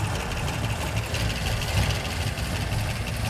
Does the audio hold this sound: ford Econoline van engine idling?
yes